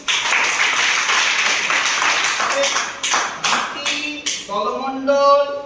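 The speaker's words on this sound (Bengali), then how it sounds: "হাততালি।" A classroom of students claps together in a burst of applause, loud and close, fading into scattered claps and a brief ringing tone near the end.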